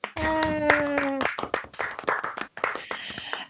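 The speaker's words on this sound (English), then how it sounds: "Can we get a round of applause for Sheyna Giffords?" An audience at a live stream event applauds Dr. Sheyna Giffords with brisk, close hand clapping, while a voice speaks and briefly sings over the claps.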